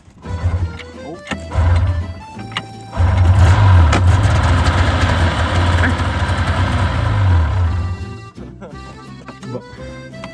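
A snowmobile engine cranks in short bursts, then catches and settles into a loud, steady idle close by before dropping away near the end.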